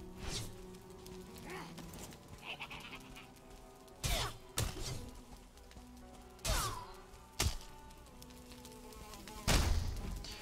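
A bee in the video game Valheim gives off a wavering, insect-like buzz under a busy game mix, broken by several loud bursts of noise at irregular intervals.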